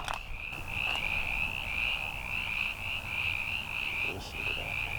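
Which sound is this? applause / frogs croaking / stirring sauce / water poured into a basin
frogs croaking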